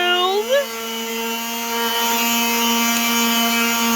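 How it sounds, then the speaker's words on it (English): A steady, loud electric motor whine with a constant buzzing hum from a power sander sanding wooden shelves, running continuously; a short rising pitch sweep near the start. "He done helping me sand the shelves"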